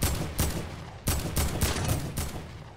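Rapid bursts of gunfire in Fortnite Battle Royale, several loud volleys crackling in quick succession with short gaps between them, close and dominant with no talk over them.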